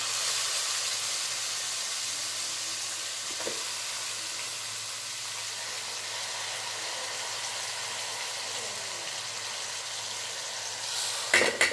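Soaked flattened rice (poha) hits a hot pan for chitranna, setting off a steady, close broadband sizzle that holds for several seconds, with a couple of brief stirring knocks near the end.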